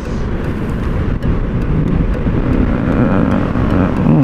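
A motorcycle travels along a city street in the Philippines, its engine noise steady and loud throughout with heavy broadband traffic rumble and no talk.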